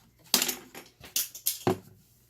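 A pair of scissors drops and rattles against a hard surface, several sharp metallic clatters in quick succession at close range.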